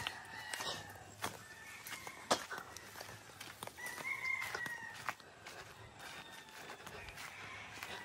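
Hens on a farm give faint, scattered clucks and calls against a quiet open-air background, with a few brief knocks and rustles nearby.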